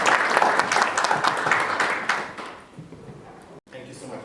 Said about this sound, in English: Dr. Kariuki, a round of applause for Paul, please.